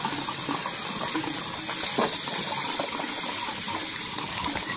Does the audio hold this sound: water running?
yes